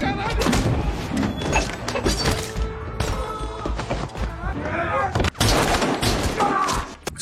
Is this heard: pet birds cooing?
no